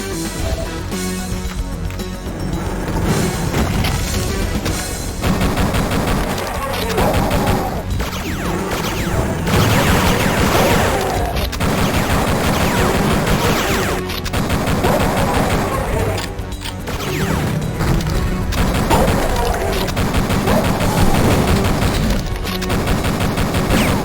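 Gunfire in the N64 version of the video game Duke Nukem, loud and nearly continuous shooting with crashing impacts and explosions throughout, punctuated by short gaps between bursts.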